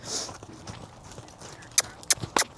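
A horse circles while being worked near cattle, its hooves making soft, uneven thuds. Several sharper clops come near the end of the brief stretch, and no one talks.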